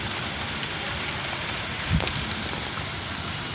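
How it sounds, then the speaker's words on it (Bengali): Soft, steady patter of light rain on a hard surface, a continuous gentle hiss with one faint dull knock midway. "হালকা চিরচির করে বৃষ্টি পড়ছে, পুরো ছাদই ভিজে গেছে।"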